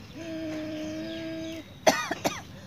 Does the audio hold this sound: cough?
yes